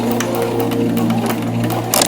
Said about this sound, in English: Now for the sewing machine portion.